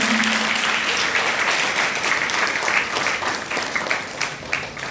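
Sustained, even applause from an audience fills the air at the release of a printed book on natural farming at a village gathering, steady clapping that thins slightly toward the end.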